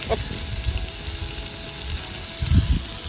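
Black pomfret, coated in flour, frying in oil on a wood-fired clay stove gives a continuous close sizzle, with a brief clatter of stirring or handling near the end.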